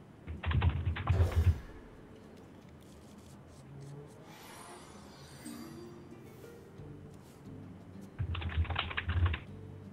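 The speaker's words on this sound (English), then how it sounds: "I can hear you typing." Keys clatter on a computer keyboard in two close, busy bursts at the start and end, with quieter background noise between them, during a Hearthstone esports play-off match.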